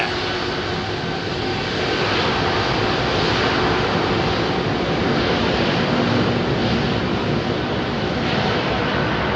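An Airbus A380 jet airliner departs Heathrow, its engines producing a loud, sustained broadband roar that swells slightly as the aircraft climbs away, heard from a nearby viewing spot.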